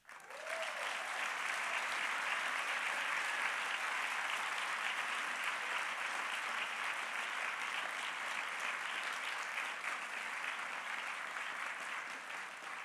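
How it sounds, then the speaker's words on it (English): A sustained round of applause from the audience at a literary awards ceremony, dense and even from start to finish, with no voices over it. "Please join me in recognizing this year's winner with a big round of applause"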